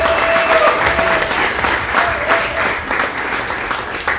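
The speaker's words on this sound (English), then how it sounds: "Give yourselves a big round of applause" Sustained audience applause at a hackathon demo event, a dense steady roar of many hands clapping throughout, with faint voices underneath.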